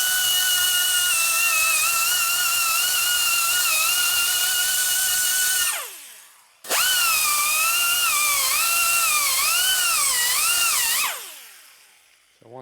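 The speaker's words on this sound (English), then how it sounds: "You gotta be careful where you're grinding, how much." A grinder works on a 1950 Harley-Davidson Panhead cylinder head during porting, giving a loud, close, high-pitched whine in two long bursts. The second burst wavers in pitch as the tool is loaded, with no talk.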